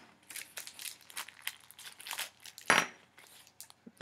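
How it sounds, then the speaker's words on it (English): Stiff plastic packaging holding metal throwing stars is cut and crinkled at close range, a run of irregular crackling rustles with one sharper, louder snip-and-crunch near the end. "we're gonna cut the plastic a little bit"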